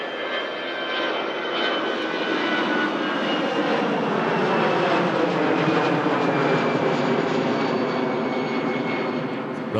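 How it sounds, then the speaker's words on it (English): EasyJet Airbus jet rotating on its takeoff roll at Manchester Airport, a loud continuous engine roar with a rising whine, steady and close throughout, with no voices over it. "Relatively early rotation there from the EasyJet Airbus A380"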